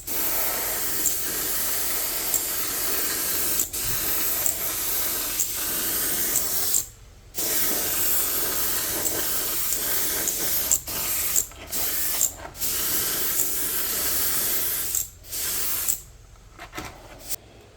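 Aerosol spray paint hissing in repeated bursts of light coats over a 3D-printed WALL-E model, each steady spray broken by short pauses, close and fairly loud with no voices.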